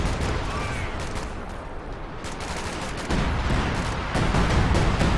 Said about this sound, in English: In comes time on target artillery